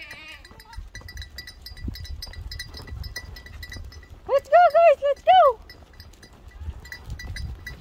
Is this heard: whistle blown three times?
no